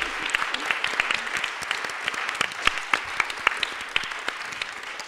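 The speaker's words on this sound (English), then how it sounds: "Can we do a round of applause for Jean, Vicky?" A crowd applauds steadily for a panel discussion at an animation festival, many hands clapping together in a dense, lively burst of claps that carries on throughout.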